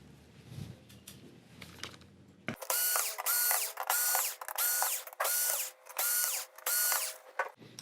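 A power screwdriver backs screws out of a Sony XBR-65X850E TV's main board: after some handling noise, about six loud whirring bursts follow one another at a steady pace, each with a ratcheting whine, close up.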